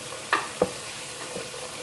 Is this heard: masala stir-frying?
yes